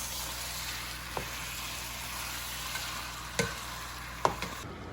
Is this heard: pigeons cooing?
no